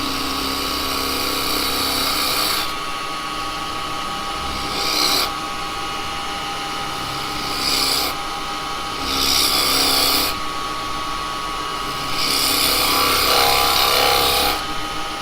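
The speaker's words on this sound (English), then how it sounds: "So I'm going to come in, I'm going to use a detail chisel." Detail chisel cutting a small recess into yew on a wood lathe, a steady hiss of tool against spinning wood rising and falling in several bursts over the constant hum of the lathe.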